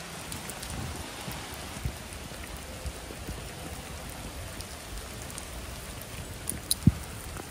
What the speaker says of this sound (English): Biggie loves going out in the rain